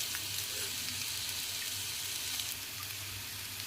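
Potatoes roasting in a pan while cooking a sattvik fasting meal, a steady, moderately soft sizzle that runs continuously without any voices.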